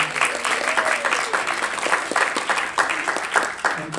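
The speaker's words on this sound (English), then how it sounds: "Round of applause for Mr." A press conference audience applauds cinematographer Bradford Young, a continuous mass of clapping with a few voices briefly audible beneath it.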